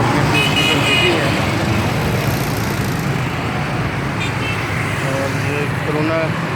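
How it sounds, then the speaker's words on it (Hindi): Congested road traffic rumbles steadily with car horns tooting several times in short bursts, while someone talks over the din throughout. "ट्रैफिक का इज़्दिहाम है"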